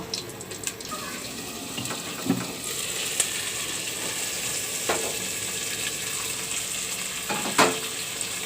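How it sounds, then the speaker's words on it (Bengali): Spices sauté in a pan for a hilsa fish curry: a continuous frying hiss with occasional scraping stir strokes and a few sharper clicks, close by and without voices. "মশলাগুলো আমি একটু কষিয়ে নিব"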